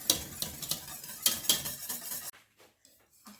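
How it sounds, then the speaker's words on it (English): Whisk scraping and clinking rapidly against a bowl while vanilla pastry cream custard is beaten, a close, busy rhythmic stirring that stops abruptly partway through. "Whisk this in really well"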